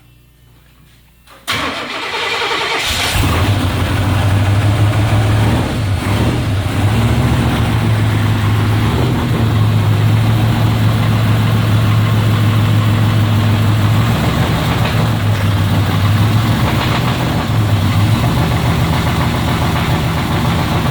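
A Chevrolet Monte Carlo big-block V8 cranks and catches after a brief quiet moment, then settles into a loud, steady, rumbling idle that runs unbroken to the end with no talking.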